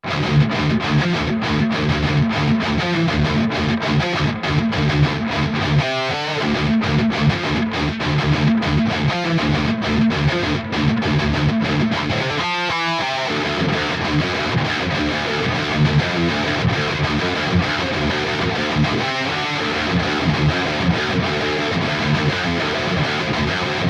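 A heavily distorted electric guitar through an STL Tones digital amp modeler preset plays chugging riffs with a thick, saturated tone, loud and continuous, with a few brief muted gaps.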